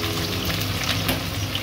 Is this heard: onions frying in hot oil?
yes